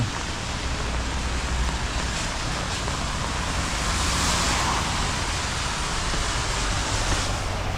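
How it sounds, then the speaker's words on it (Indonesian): Steady rain falls during a walk through the Australian city of Geelong in Victoria, a continuous broadband hiss of rain on the street mixed with passing road noise, even and unbroken throughout with no talking. "di tengah hujan"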